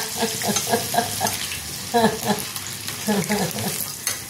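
Bhaji made from poha and chana dal flour frying in hot oil over lowered gas while being flipped with a slotted spoon, a steady sizzle broken by scraping and stirring clatters.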